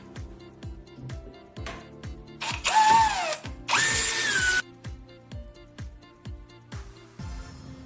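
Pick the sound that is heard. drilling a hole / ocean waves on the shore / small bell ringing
drilling a hole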